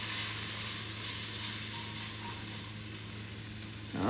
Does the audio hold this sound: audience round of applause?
no